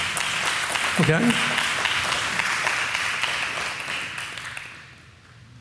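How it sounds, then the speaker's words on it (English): Audience applause at a talk on love and Torah, a broad wash of clapping that holds steady for several seconds and then fades out, with a brief spoken word from one voice early on. "You can clap for that."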